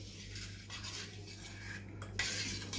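A spoon stirs thandai spice mix into milk, making quiet scraping clinks against the vessel over a steady low hum.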